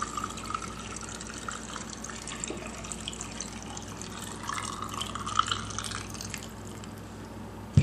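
Hot water trickles and splashes steadily into a canning jar packed with mini potatoes, a continuous soft pouring and filling sound at close range with small dripping bursts near the end.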